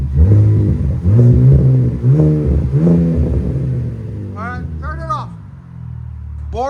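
Revving of a 2025 RAM RHO pickup's 3.0L Hurricane inline-six through Borla ProXS double mufflers, 3-inch in and out: repeated loud rising revs that settle to a steady idle, with brief whistles near the end.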